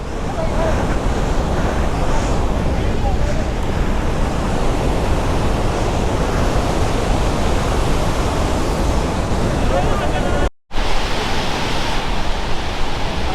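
Loud, continuous roar of the rushing Saraswati River near Mana village, a dense unbroken wash of water noise with wind buffeting the microphone and one brief dropout near the end.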